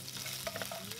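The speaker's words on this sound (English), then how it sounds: "Place in the ginger, scallions, cinnamon, and star anise. Stir fry for about 1 minute." Ginger, scallions, cinnamon and star anise are stir-fried in extra light olive oil for red braised pork trotters: a close, steady sizzle with brief scraping stirs, all within about a second and with no talking.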